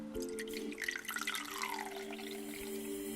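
Milk is poured into a Bialetti milk frother, a soft steady liquid stream with a rising filling tone as the jug fills, close and fairly quiet.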